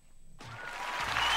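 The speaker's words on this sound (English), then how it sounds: "Let's get a round of applause over there, Mr. Marcus." Applause for a home buyer whose house went under contract, rising suddenly after a quiet start and building in loudness as more hands join, close and unaccompanied by talk.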